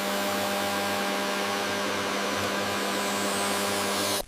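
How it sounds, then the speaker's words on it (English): A steady, loud mechanical whirring hum with a constant tonal drone from a vacuum system extracting papaya seeds on a factory processing line, running evenly before cutting off abruptly at the end. "A vacuum system efficiently extracts the seeds."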